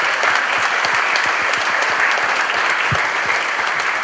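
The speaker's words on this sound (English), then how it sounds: "we can still get a round of applause" A school board meeting audience breaks into steady applause, an even, sustained patter of many hands clapping for four seconds with no talk over it.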